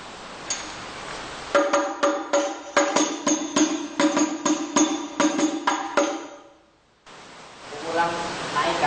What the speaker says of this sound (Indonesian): Setelah pukulan biasa dilanjutkan pukulan naikkan.